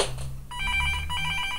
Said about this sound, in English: Keep ringing, Mr. Phone, because I ain't gonna pick you up.